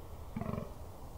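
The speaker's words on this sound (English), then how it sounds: "A fallow buck in full voice during the rut in October is a sight and a sound to" Fallow deer buck groaning during the October rut in the New Forest's open grazing woodland: a single short, low, pulsing belch-like grunt under half a second long, faint against a steady outdoor background hum.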